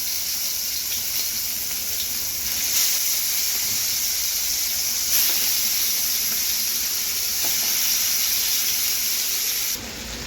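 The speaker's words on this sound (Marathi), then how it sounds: "आता आपण तळून घेऊया" Surmai fish slices frying in hot oil in a pan, a steady close hiss and sizzle that runs throughout at an even loud level, with no voices.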